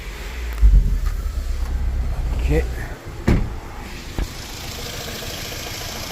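A Volkswagen Golf R engine fires up and settles into a rough, uneven idle from a misfire, a steady low rumble with a few sharp knocks, while a voice speaks briefly near the start.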